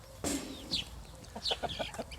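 Chickens cluck in short bursts, several birds calling close by with brief gaps between their clucks.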